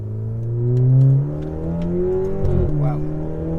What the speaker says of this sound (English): I'm about to do a wide open throttle run here.